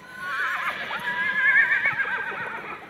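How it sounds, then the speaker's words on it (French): A horse neighs and whinnies in a sales ring at a jump-racing horse auction. It is a loud, drawn-out call that rises and wavers for nearly three seconds, with faint hoof clops beneath it. "nous avons un cheval sur le ring numéro 1"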